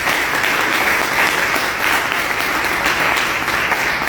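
Church congregation applauding during a sermon, a steady, dense burst of clapping from many hands that holds loud throughout.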